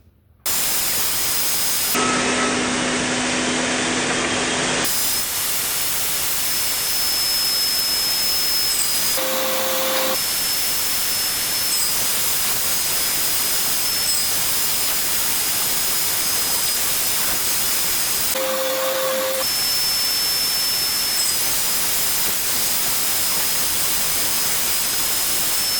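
A power saw rips thin walnut strips for handmade hardwood coasters. The blade makes a loud, steady, high whine that runs almost nonstop, with a few brief changes in pitch as each cut begins and ends.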